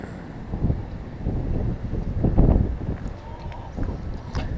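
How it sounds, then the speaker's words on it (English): Gusty wind blows outdoors beside a lake, rumbling low and buffeting the microphone in uneven surges that peak in the middle, with no one speaking. "Well, this wind is pretty nice."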